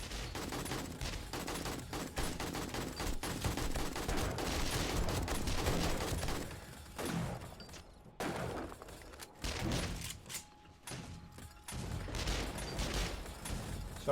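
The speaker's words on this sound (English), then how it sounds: "If they get close enough, my turrets will start firing at them too." Base turrets in 7 Days to Die fire on approaching zombies in a dense, continuous rattle of gunfire. A few brief lulls break the barrage.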